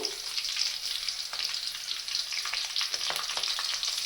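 Curry leaves fry lightly in oil in a pan for a carrot rice breakfast, giving a steady, soft sizzle with small crackles and pops scattered throughout, fairly quiet and with no voices.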